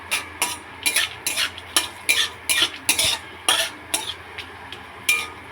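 Bay leaf, cinnamon, cloves and cardamom frying in ghee in a kadai, heard as a run of sharp, crackling sizzle bursts and stirring scrapes repeating at an irregular rhythm, close and moderately loud, with no talk.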